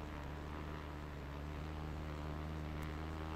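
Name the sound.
aircraft engine in a flight simulator video game, like a radio-controlled gas plane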